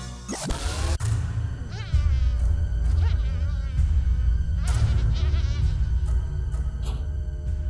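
Houseflies buzzing close by, a loud steady hum with whining pitch swoops as they fly past, over a low rumbling background.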